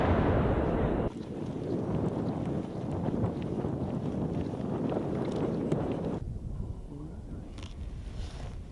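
An FGM-148 Javelin anti-tank missile fired outdoors: a loud blast opens, then a sustained roaring rush trails off over several seconds amid heavy wind noise.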